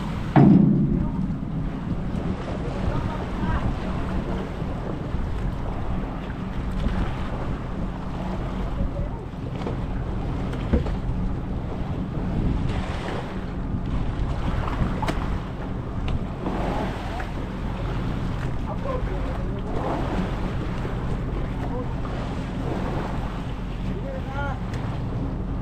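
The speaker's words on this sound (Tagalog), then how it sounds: "Ay, may bangka pala dyan, no? Bangka." A small outrigger boat passes on the open sea, a steady motor drone mixed with wind buffeting the microphone and waves washing, lasting throughout with no clear talk.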